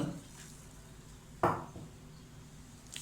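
A spoon clinks against a bowl while curd rice with coriander leaves is mixed, with one sharp scrape-clatter midway and quiet stirring around it.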